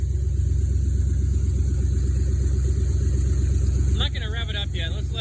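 The engine of a Jeep CJ5 hot rod runs at a steady, loud idle close by right after starting, with a continuous rumbling pulse; someone speaks briefly over it near the end.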